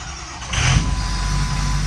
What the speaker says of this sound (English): So new fuel pump, it started up for just a second.